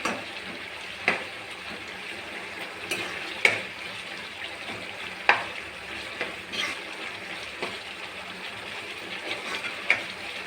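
A pan of appalam kuzhambu curry bubbles and sizzles continuously, with periodic clinks and scrapes of a utensil stirring every second or two.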